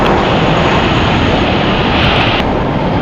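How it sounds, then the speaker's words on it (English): Spirit Airlines Airbus A320, eight years old, departing LAX for Boston: a loud, steady broadband jet roar held close and constant throughout, with no voices. "Departing here, Spirit Airlines flight 3673 going to Boston. It is an Airbus A320, 8 years old."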